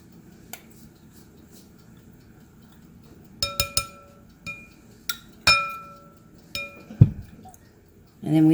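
Honey is stirred into homemade elderberry syrup with spices, a spoon clinking against glass in a series of sharp, ringing taps that start sparse and grow more frequent, close by, ending with a brief voice.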